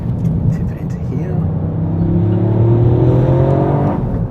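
Toyota GR Yaris, a used high-performance hatchback, accelerating as heard from inside the cabin, with its engine note rising steadily in pitch over several seconds. A continuous, loud drone mixes with road and cabin noise.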